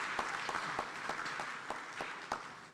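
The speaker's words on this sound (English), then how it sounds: "another round of applause for the Right Honorable Speaker" Sparse applause at a parliamentary conference opening for the Speaker, a soft background patter punctuated by a few louder, distinct individual claps at irregular intervals.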